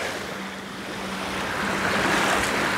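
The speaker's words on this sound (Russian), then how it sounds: "Мы находимся в Гаубицкое Азовское море" Sea waves on the Azov Sea shore at Golubitskaya, a steady broad wash of surf that swells slightly louder toward the end, with light wind and no voices.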